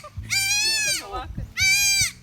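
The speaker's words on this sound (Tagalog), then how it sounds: "Nanganak ng kambing mo, James." Two loud, drawn-out bleats from a goat that has just given birth to triplets, close by, separated by a short pause, with faint low background noise beneath.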